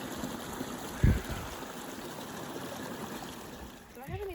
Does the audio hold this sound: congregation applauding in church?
no